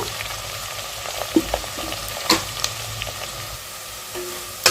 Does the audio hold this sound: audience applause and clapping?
no